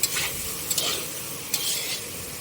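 Okra and potatoes frying together in a pan, a steady soft sizzle with a few sharp stirring scrapes near the start, middle and later on, close by and with no voices.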